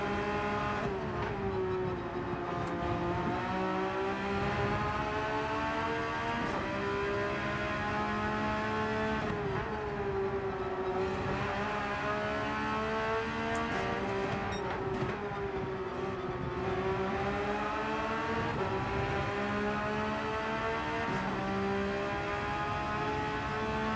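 Race car engine in the Gran Turismo 7 racing game, a sustained loud harmonic whine that rises and falls with gear shifts and revving, running continuously with brief dips throughout.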